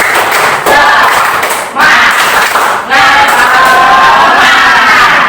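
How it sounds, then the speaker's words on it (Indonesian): Schoolchildren in a classroom doing a rhythmic spirit clap, loud bursts of group clapping mixed with shouting voices in repeated sections, close and energetic. "Tepuk semangat"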